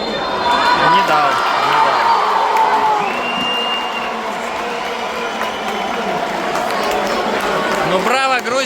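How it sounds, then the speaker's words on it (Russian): A stadium crowd at a Georgia versus France European Championship football match in Žilina keeps up a loud, continuous roar of applause and cheering, with whistles and voices woven through it. "ну тут все сейчас аплодируют сборной Грузии"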